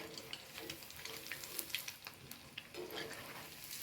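A potato snack frying in oil in a pan while being stirred, a soft steady sizzle with faint scraping clicks, close and quiet.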